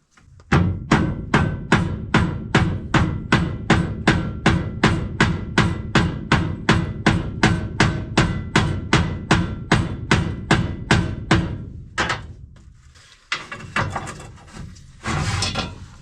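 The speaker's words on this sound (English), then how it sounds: "When you get to hit stuff with a hammer, I mean, what else do you want?" Rapid, steady hammer blows ring on metal while a seized bulldozer clutch is worked loose, about thirty evenly spaced strikes close and loud, then a brief pause and a few scraping, clattering knocks.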